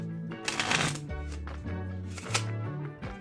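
A pack of playing cards is shuffled by hand up close, several riffle bursts of rapid flapping and clicking riding over a steady background of soft music.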